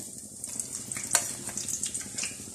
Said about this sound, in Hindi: बाकी जो हमारी कुलचा पूरी है उसको फ्राई कर लेते हैं